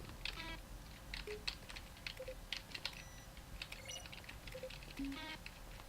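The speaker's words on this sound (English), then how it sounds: "Each sound is a mix of a keyboard stroke and a synthesized tone." Button presses from The Stanley Parable video game, each a keyboard keystroke blended with a short synthesized tone, recur as sharp clicks paired with brief soft beeps over a low steady hum, with no talking.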